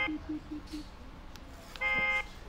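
Golden Ally power chair warning sounds as a short series of low beeps, then a brief louder horn-like buzzing tone lasting under half a second, with quiet room noise around it.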